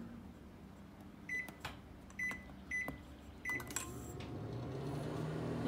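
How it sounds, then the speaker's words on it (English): A microwave oven running with its turntable switched off, a steady low hum under a few sharp beeps and clicks from the control panel, followed by a door or cupboard clunk, quiet and close. "The important thing here is that the turntable is off so that the microwave is not moving."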